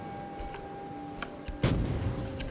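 A heavy naval gun salvo from a warship in World of Warships booms out once, sudden and loud over a steady low engine and sea drone with faint tones.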